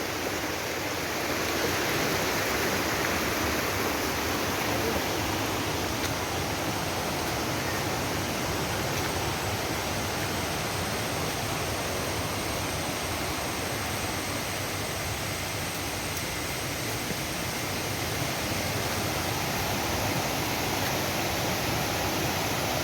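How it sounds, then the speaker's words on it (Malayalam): Steady broadband rush of water from a scenic waterfall reached after crossing a bridge, a continuous even roar filling the scene without pause and with no voices. "വളരെ മനോഹരമായ ഒരു വെള്ളച്ചാട്ടം"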